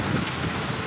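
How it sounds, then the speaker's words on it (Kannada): Heavy rain pours steadily and loudly, a dense continuous wash of noise with no breaks and no talking. "ಎಷ್ಟೊಂದು ಜೋರಾಗಿ ಮಳೆ ಬರ್ತಾಯಿದೆ"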